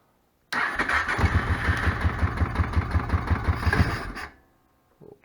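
A Kawasaki Prairie 700 ATV cranks and catches, then runs with a steady rhythmic thumping idle for about three seconds before cutting off abruptly. The engine is close and moderately loud, with no one talking.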